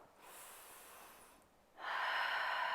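A deep inhale during a seated, supported chair yoga session, heard as a soft, sustained breath that ends in a louder, rushing draw of air near the microphone.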